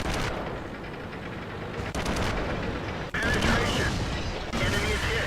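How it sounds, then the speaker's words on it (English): Tank cannon fire in a World of Tanks-style game replay with a Hetzer, heavy booming shots and crackling battle noise around two sharp transients, over continuous game ambience. "the Hetzer finally gets a shot in"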